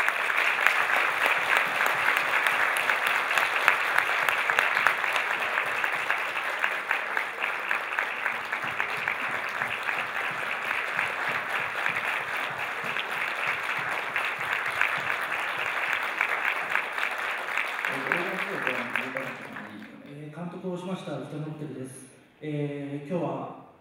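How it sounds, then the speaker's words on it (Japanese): Sustained audience applause at a film screening stage greeting fills most of the stretch, steady and dense, then fades as a person begins speaking near the end. "さん拍手で迎えてください。"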